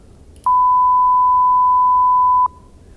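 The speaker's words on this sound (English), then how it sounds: "So this is the sound of this sinusoid." A single steady pure sine wave tone, clear and loud, holding unchanged for about two seconds before cutting off, with near silence on either side.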